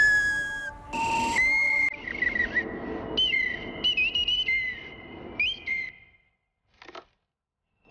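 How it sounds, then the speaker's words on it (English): Replica of an ancient bone flute made from an animal shank, playing breathy whistling notes that slide and waver in short phrases, close and moderately loud, then fading to silence with one faint final puff. "The sound comes from the bone flute, made by Ni Yue Hui from an animal shank."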